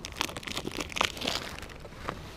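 A packet of Brain winter fishing groundbait is handled up close, giving a quick burst of crisp plastic crinkles and rustles lasting a couple of seconds.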